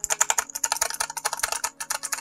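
Rapid clicky typing on a Razer Huntsman Elite mechanical keyboard, a close, steady stream of crisp key clicks with a brief pause partway through.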